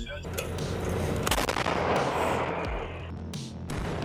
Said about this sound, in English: Then, a Ukrainian M777 opened fire.